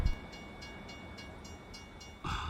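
A train passes in American Truck Simulator, a steady rumble of rolling wagons with faint rhythmic clacks, loud at the start, and a louder surge near the end, no talk.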